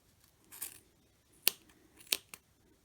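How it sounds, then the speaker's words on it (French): Scissors trim a small yarn pompom with a few crisp, close snips spaced apart, each a sharp metallic cut against quiet room tone, with no voices. "On repassera les ciseaux une seconde fois pour aller un peu plus profond."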